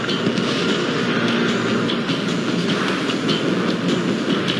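A train in Ace Combat: Skies Unknown rumbles and clatters steadily along the tracks, loud and continuous, with faint rhythmic clacking in the mix.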